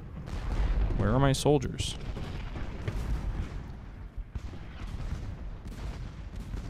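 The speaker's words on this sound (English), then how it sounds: "So I've got a bunch of artillery shooting at something." Artillery batteries fire in the video game Ultimate General: Gettysburg, a string of deep, rumbling booms in close succession, with someone talking over the barrage.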